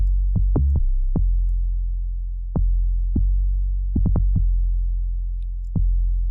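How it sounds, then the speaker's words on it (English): Deep booming 808 bass notes from the Monotone synth in Reason 10.4 hit in a sparse pattern, each with a sharp click on the attack and a long, sustained low tail. "then we get that familiar 808 punch"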